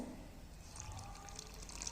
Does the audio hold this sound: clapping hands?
no